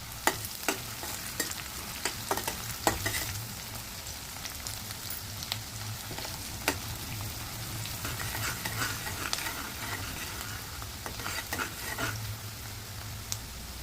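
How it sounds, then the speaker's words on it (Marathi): Chopped onion and green chili frying in a pan over roasted cumin for mushroom bhaji, a steady sizzle with scattered clicks and scrapes of stirring throughout. "त्यामध्ये कांदा घालून घेऊया, हिरवी मिरची घालूया आणि ती थोडी लाल होईपर्यंत परतून घेऊया।"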